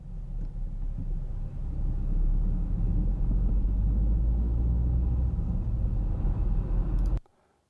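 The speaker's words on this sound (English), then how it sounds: "So we start by loading some car noise in, just to give you a sense for that." Recorded car noise plays back in an acoustic software demo as a steady, loud low rumble of a road vehicle interior that holds for about seven seconds and then cuts off abruptly.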